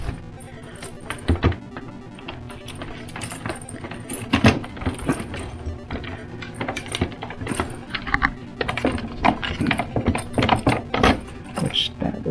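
A bunch of keys jangles and clinks in irregular bursts while someone tries to unlock the door of a House of the Dead 2 arcade cabinet, with a voice speaking at times.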